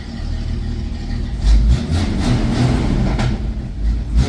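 A Ford XB Fairmont engine idles with a steady low rumble, and a few sharp crackles break through the exhaust note.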